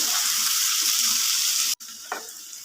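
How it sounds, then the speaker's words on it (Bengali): Chopped tomatoes sizzle loudly and evenly in a pan for Punjabi-style mutton kosha, with a brief cut to silence partway through followed by a softer sizzle and a stirring scrape. "টমেটোটাও একটু ভেজে নেব যাতে কাঁচা গন্ধটা চলে যায়।"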